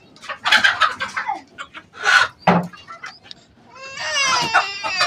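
A rooster squawks and clucks in sharp, frantic bursts while being caught, loud and close, with a raspy drawn-out cry near the end.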